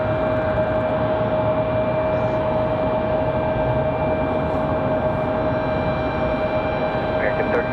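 A jet plane in Nevada One livery passes at Raleigh-Durham airport, a steady moderate engine roar with a droning tonal whine holding evenly throughout, with voices faintly underneath.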